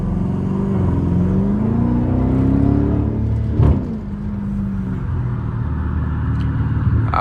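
A straight-piped Chrysler 300 with no resonator or muffler roars as it revs, its tone rising and then easing back, with a brief thump midway and a steady heavy rumble from the moving car, loud and close.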